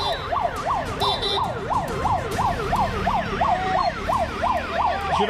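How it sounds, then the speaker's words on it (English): Several ambulance sirens wail at once as they arrive at a crowded hospital during India's Covid surge. The rapid, rising-and-falling yelps overlap loudly above traffic rumble. "One after another, there have been, in fact, ambulances coming in as far as this hospital is concerned."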